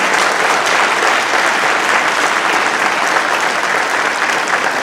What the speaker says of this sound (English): let's have another huge round of applause for these amazing musicians sitting here on the stage